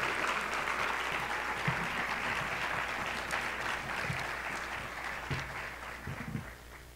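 Sustained applause from a conference audience welcoming a speaker to the stage at an education summit, a steady dense patter of clapping hands, moderately loud and continuous throughout with no voices on top.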